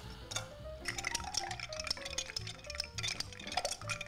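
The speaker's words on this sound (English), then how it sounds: "Let's give it a stir." A Malört Old-Fashioned cocktail being stirred, with steady clinking and ringing taps of ice against glass and a spoon, close and fairly quiet, and no voices.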